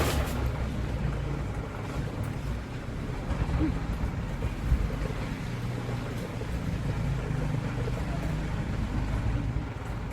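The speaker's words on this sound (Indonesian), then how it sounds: "Anginnya cukup kencang ya guys ya." Strong wind buffets a microphone outdoors in a farm field, a steady rumbling roar that never lets up across the whole stretch, loud and close, with no clear voice over it.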